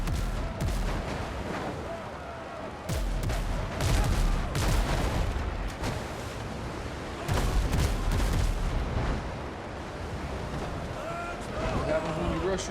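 Rapid cannon fire from ships in the naval game Archipelago, a dense run of loud booms and crackling shots layered over one another, with a voice speaking at times beneath the barrage.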